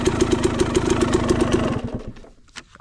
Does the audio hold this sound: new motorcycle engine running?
yes